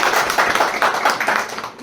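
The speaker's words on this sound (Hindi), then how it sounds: "इनके लिए जोरदार तालियां।" Applause at a library inauguration ceremony, a brief burst of dense clapping from a crowd that stays steady before tapering off.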